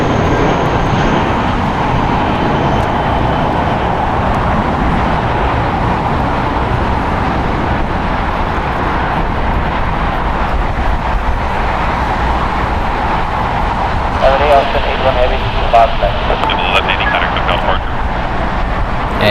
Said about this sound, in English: Airbus A350 1000.